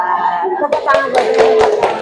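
A group of children claps hands in a quick, uneven burst after a short lead-in, with children's voices mixed in close by.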